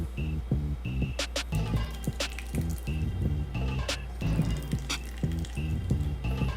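Red wine vinegar trickles and drips into a container, with soft splashes and small clicks over a steady low hum, close by.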